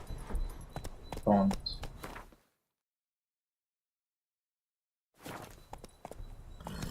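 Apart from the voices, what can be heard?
Roach the horse moving in video game The Witcher 3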